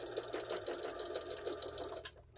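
A sewing machine runs a rapid, steady rhythmic stitch while backstitching a stuffed dog bone pillow seam, buzzing close and continuous for about two seconds before stopping abruptly, with no voices.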